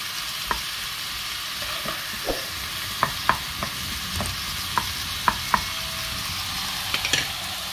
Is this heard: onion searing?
yes